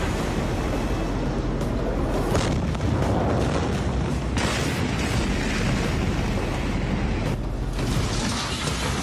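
A warehouse packed with 2,500 tons of explosive material blows up in a fireball, giving a loud, continuous roaring rumble with repeated heavy booms and shockwave blasts throughout.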